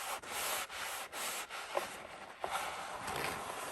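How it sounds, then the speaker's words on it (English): A shop towel rubs dirt and dust off a car's interior surfaces, a continuous close scrubbing hiss with brief pauses between strokes, steady and fairly quiet. "So I can just clean this all off, wipe up all the dirt and dust"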